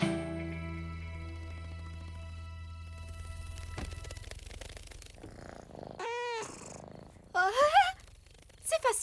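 A cartoon cat purrs in a steady low rumble for several seconds, then the purring stops and brief squeaky, warbling vocal sounds and soft noises follow.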